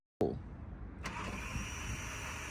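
A Volkswagen Golf cranks on a jump starter: a sharp click, then a steady whirring starter-motor drone that runs on continuously without the engine catching.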